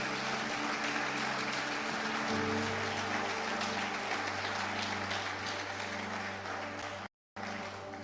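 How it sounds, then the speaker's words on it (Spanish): Church congregation applauding together during a Spanish-language Lord's Supper service, a steady dense wash of clapping throughout with a sustained organ or keyboard tone underneath, briefly cut out near the end. "usted le da el mejor de los aplausos al Señor"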